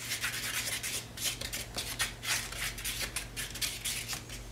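A small wooden popsicle stick stirs something in a small container, making steady scraping and rubbing strokes in quick, repeated bursts close up, with no talking.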